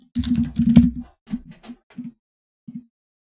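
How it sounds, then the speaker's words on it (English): Bursts of typing on a computer keyboard, close and crisp, a quick cluster of keystrokes followed by a few scattered single taps separated by silence. "Typing."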